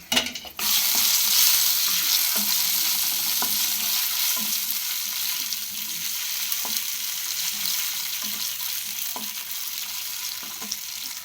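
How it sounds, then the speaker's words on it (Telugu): Raisins frying in hot ghee for sweet jaggery moong dal pongal, giving a steady dense sizzle with occasional soft clicks of a spoon, with no talking. "కలర్ చేంజ్ అయినాక కిస్మిస్ వేసుకుంటాం"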